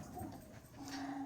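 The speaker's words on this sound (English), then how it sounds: "And excuse my dogs in the background." Faint whimpering from dogs somewhere in the background, a low steady whine that runs through the whole short stretch without any talk over it.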